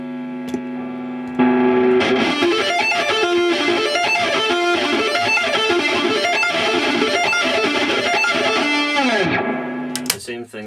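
Distorted electric guitar sweep picks minor arpeggios, fast rolling up-and-down runs played loud and sustained for about eight seconds after an opening held note, ending with a ringing stop.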